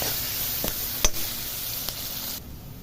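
Onion pieces sizzle in hot oil with salt and turmeric, a steady close hiss broken by a few sharp clicks of a utensil against the pan.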